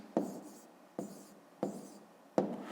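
Numbers are written by hand with a pen on paper for a fifth-grade maths answer, four distinct taps of the pen landing, each followed by short scratchy strokes, heard up close and without speech.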